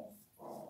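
A dog gives a brief, low growl up close, a short throaty rumble that dips and then swells again before cutting off.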